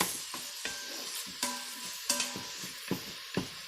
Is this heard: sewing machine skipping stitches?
no